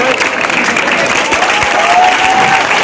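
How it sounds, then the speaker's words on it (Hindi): An audience at an award ceremony in Begusarai, Bihar, claps loudly and steadily throughout, a dense continuous wash of applause filling the space. "निश्चित रूप से ताली बजनी चाहिए"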